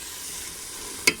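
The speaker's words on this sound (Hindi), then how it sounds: "और इसे भूनें इस तरह।" Grated carrots sizzle softly in ghee under a steady hiss, with one sharp spoon knock against the pan near the end.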